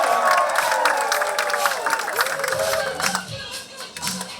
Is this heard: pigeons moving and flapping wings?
no